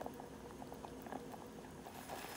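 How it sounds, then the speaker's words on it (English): Quinoa simmering in spring water in a pot, a steady rolling boil of dense bubbling and soft popping that continues without pause, close and even in level. "And we're going to let this boil for"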